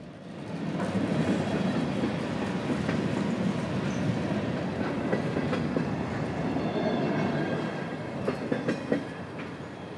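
A CSX hopper train with many older cars rolls steadily past nearby in Central Florida, a continuous loud rumble with clickety-clack wheel beats and faint squeals, with no talking.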